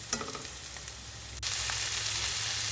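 Carrots tumble into a hot frying pan for pancit bihon, a quick clatter giving way to a louder, steady sizzle with stirring, close and without talk.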